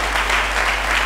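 A church congregation bursts into loud, dense applause, a crowd clapping steadily and closely all the way through.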